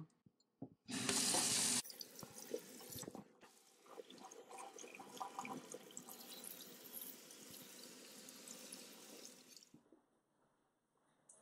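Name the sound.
rinsing hair with running tap water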